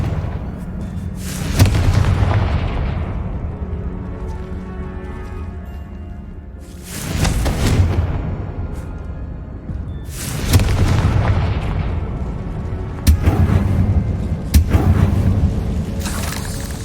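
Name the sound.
Confringo spell explosions in the Hogwarts Legacy video game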